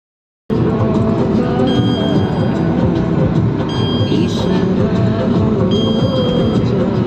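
Loud, steady rumbling roar of a train rolling along the tracks, starting abruptly and continuing without letup, with faint high squeals above.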